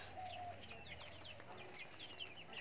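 Chickens on a small desi poultry farm, a busy mix of soft clucks, chirps and cooing calls from several birds, fairly near and moderate in level, with no talking.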